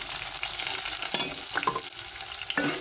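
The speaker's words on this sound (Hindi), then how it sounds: "और इसको हमने गोल्डन फ्राई करना है, गोल्डन ब्राउन।" Two medium sliced onions frying in oil toward golden brown for a beef paya dish, a loud, steady crackling sizzle with several sharp scrapes and clicks of stirring.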